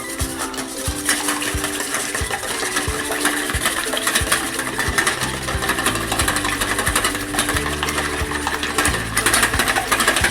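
Eggs whisked in a bowl for a masala cheese omelette, a fast, continuous clatter of a utensil beating against the bowl, loud and close, with no talking.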